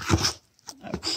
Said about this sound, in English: I don't know if your dogs like to eat the peat moss, but this one seems to have developed a taste for the peat moss